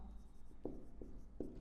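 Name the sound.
writing during a maths lesson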